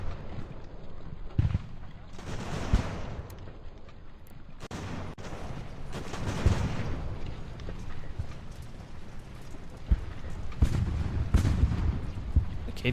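In a Revolutionary War battle in the strategy game Ultimate General: American Revolution, scattered musket volleys and deep artillery booms go off at irregular intervals over a constant background of battlefield noise.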